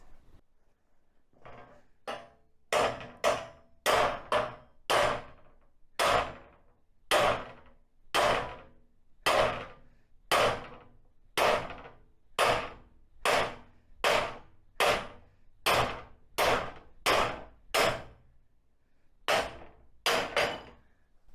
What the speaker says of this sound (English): So should we give this a whack with a hammer and see what happens?